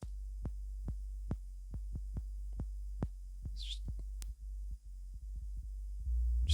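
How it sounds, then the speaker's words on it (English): A low, soft sine wave bass from the Vital synth in Ableton plays a slow line of short repeated notes, with a faint click near the end. "Okay, so that's just a sine wave."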